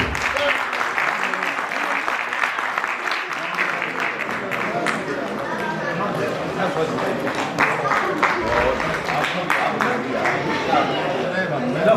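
Applause rises from an audience honoring artists at a stage ceremony during the Amar Kala Mahotsav festival, a sustained round of clapping mixed with crowd chatter that continues throughout, with a voice speaking over it.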